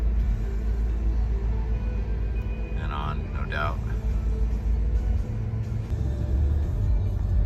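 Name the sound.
traffic coming off the bridge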